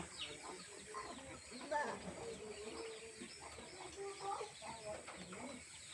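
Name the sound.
ducks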